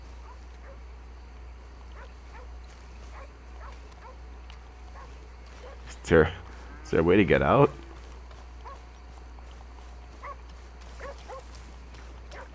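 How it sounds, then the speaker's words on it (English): Dog barking in the Red Dead Redemption 2 video game: a single sharp bark, then a quick cluster of several barks shortly after, loud against a quiet outdoor ambience, with a voice talking. "That's definitely a dog."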